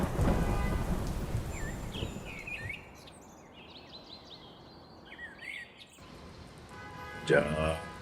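Steady rain hisses throughout with a faint rumble of thunder low beneath, a few distant bird calls over it and a brief sharp burst near the end, during a downpour outdoors.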